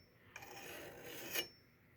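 Strokes of a diamond file across an axe blade give a close, gritty rasp that lasts about a second, rising to a brief scrape before stopping, with quiet before and after.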